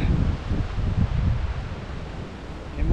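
Gusty wind buffets the microphone beside a canal during a fishing session, a loud low roaring rush that swells at first and then eases slightly, with no voices.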